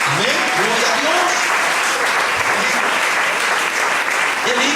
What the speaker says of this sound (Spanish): Les daré un aplauso al Dios de la verdad